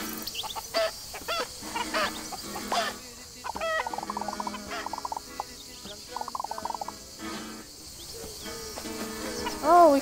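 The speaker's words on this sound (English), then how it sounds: "Oh, we can go talk to the chickens." Chickens cluck in a burst of short, repeated calls in the wildlife game Alba: A Wildlife Adventure, sounding close and moderately loud against a steady bed of other game sounds.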